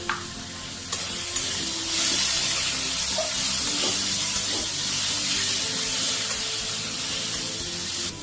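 Chili powder hits a hot pan of katla fish curry with potatoes and pointed gourd, setting off a loud, steady sizzle and hiss with stirring scrapes, close and continuous.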